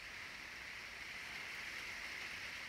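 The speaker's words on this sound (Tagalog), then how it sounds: "Grabe yung ulan." Steady, dense hiss of heavy rain pouring down continuously, with no voices, a constant wash of sound throughout.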